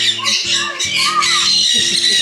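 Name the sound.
parrots and birds squawking at Loro Parque, Tenerife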